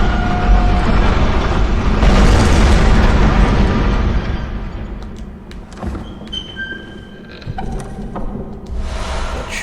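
A church cannon fires an explosive shot in Bloodborne, a loud heavy boom that swells and rolls away over a couple of seconds, followed by quieter clanks and mechanical noises.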